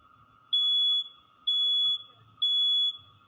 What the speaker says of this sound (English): Now the stalker's trying to play the fire alarm to try to interrupt me